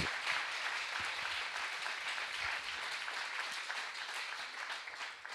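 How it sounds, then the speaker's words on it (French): An audience applauds the panel speakers at a business and associations conference, with steady, even clapping from the room, heard fairly faint and distant, with no voices over it. "Je voulais qu'on applaudisse les intervenants, s'il vous plaît, d'abord."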